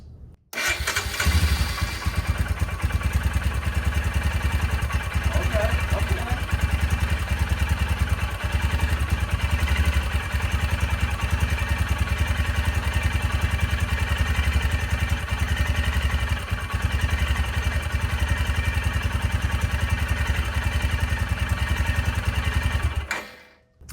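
A 2022 Royal Enfield Himalayan 411 single-cylinder motorcycle engine starts and runs close by, a steady throbbing idle that lasts about twenty seconds before cutting out.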